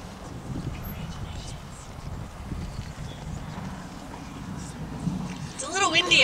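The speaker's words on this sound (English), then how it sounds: "It's a little windy up here." Wind buffets an outdoor microphone at a 2021 high school graduation ceremony, making a steady low rumble that swells louder near the end, where a voice briefly rises.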